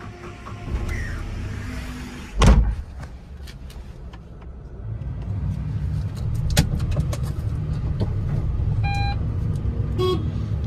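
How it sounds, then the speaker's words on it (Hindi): A 2020 Renault Kwid, a 2019 registered upgraded model, settles into an idle and pulls off on a short test drive, with a sharp thump near the start and clicks and a beep over a steady low engine hum. "अब जल्दी से चलते हैं इसका एक छोटा सा टेस्ट ड्राइव में और देखते हैं गाड़ी चलने में कैसा है"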